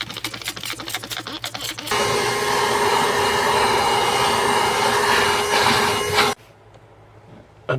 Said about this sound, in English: using the vacuum again to suction out any of